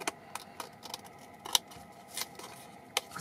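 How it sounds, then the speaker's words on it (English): Large scissors snip through sticky 3D foam in a string of quiet, separate cuts, about a dozen sharp clicks at an uneven pace. "scissors here, especially as I'm having to cut through sticky 3D foam."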